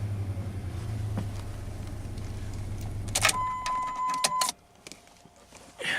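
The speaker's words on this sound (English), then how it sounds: "Yeah, it's misfiring." An idling car engine runs rough and uneven with a misfire, a steady low rumble close by, then keys jangle and a door lock clicks as the engine sound drops away near the end.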